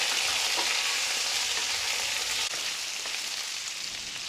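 Eggplant pieces fry with potato and pumpkin in a pan over a medium-high gas flame, producing a close, continuous sizzle with stirring scrapes and a brief dip in loudness partway through.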